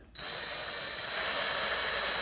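A power drill bores a 9/64 hole in the fiberglass roof cap of a Winnebago RV. It starts abruptly and holds a steady, high whining hum throughout, fairly faint and with no talk.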